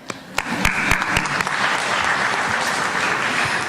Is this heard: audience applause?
yes